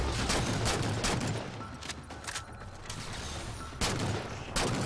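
Gunfire from the Halo 4 video game, a dense fusillade of rapid shots with repeated sharp bursts standing out over a steady barrage, loud and continuous across the whole stretch.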